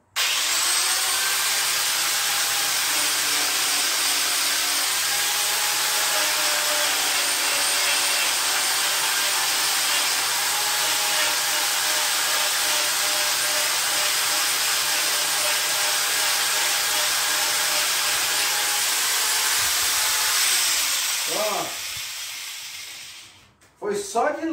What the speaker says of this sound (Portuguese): Então nós vamos lixar um pouquinho com a lixadeira aqui, para a gente poder passar a cola e o remendo